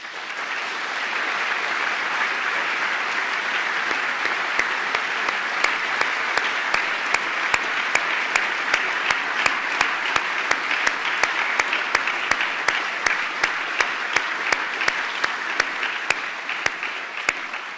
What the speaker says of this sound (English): I'd like to ask you to join me in applauding the really valuable work of the Ashden Awards team